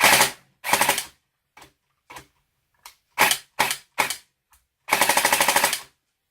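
An AA L85 airsoft rifle with a replaced hop rubber fires loud, close full-auto bursts and single shots, some short, others longer and rapid, with silent gaps between them.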